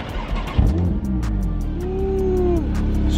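A Porsche Turbo engine rumbles deeply nearby, then revs with a rising, sustained tone before settling, loud and steady throughout with no voices.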